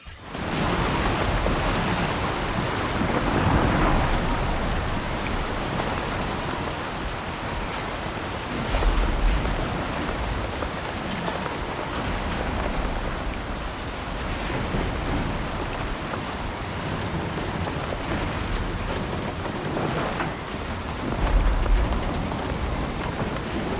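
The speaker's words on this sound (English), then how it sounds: "Storm's coming through" Steady heavy rainstorm in the Death Stranding 2 game world, a dense continuous hiss of rain with low rolling thunder swelling around nine and twenty-two seconds, no voices.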